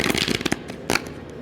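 Tarot cards are riffled and shuffled by hand in short bursts, crisp papery flutters close up with quick clicks and a final snap.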